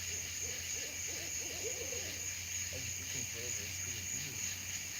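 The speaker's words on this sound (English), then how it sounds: "Can you guys hear the owls in the background?" Two owls hooting from the trees about fifty or sixty feet away at night, soft repeated calls over a steady chorus of crickets or insects and a low hum.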